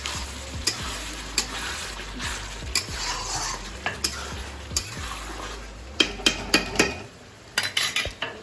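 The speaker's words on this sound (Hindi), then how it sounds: "यहाँ पे मसाला बिल्कुल फ्राई हो गया है" Onion and masala frying in a pan on a home stove, with a steady sizzle under repeated sharp clinks and scrapes of a spoon stirring against the metal, louder clatters near the end.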